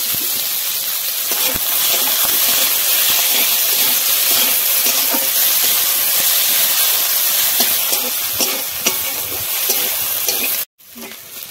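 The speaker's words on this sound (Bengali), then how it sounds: "এখন এই মশলাটা একটু তেলের উপরে ভেজে নেব।" Spice masala frying in oil in a kadai for an egg curry, a steady loud broadband hiss and crackle running nearly unbroken, with a brief dropout near the end.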